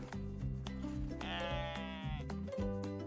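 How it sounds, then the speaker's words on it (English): A goat bleats in a long wavering cry over a background of other tonal sounds, close and fairly loud. "It's a goat."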